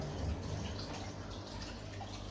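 Water pours steadily into a home aquarium holding discus fish, a continuous wash of running and splashing liquid at close range with no speech.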